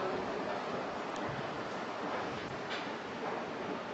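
Strong wind buffets a microphone outdoors in Yeouido, a steady, loud broadband roar that fills the whole stretch without a break and with no voices.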